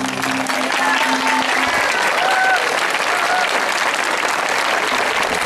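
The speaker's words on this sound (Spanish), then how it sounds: "Fuerte el aplauso." Loud, dense applause from an audience at a school cultural festival, continuous clapping throughout with a little crowd noise and brief tones under it at the start.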